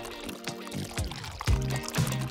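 Liquid is poured into a glass over a burning candle in a series of short gurgling, rising pours with small splashes between them, close and fairly quiet.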